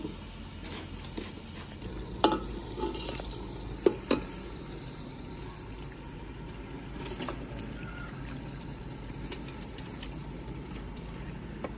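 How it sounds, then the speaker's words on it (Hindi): Chicken pieces fry in a pan with roasted spices while being stirred, making a steady soft sizzle with a few louder scrapes and clinks of the spoon. "चिकन जो ऐड हो रहा है, मिसाले भुन चुके हैं।"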